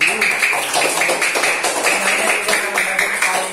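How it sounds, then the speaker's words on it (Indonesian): Students in a classroom clap for a student group in quick rhythmic bursts of hand claps, close and moderately loud, with voices mixed in. "Beri tepuk tangan untuk kelompok."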